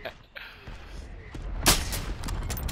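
Gunfire in a multiplayer shooter crackles as scattered shots and booms, one sharper burst standing out, with people talking over the battle noise.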